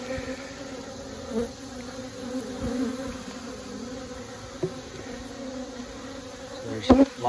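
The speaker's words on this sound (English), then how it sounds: "There's lots of bees in here now." Honey bees drone steadily inside an abandoned hive split, a dense continuous hum with a few louder buzzes passing close by near the end.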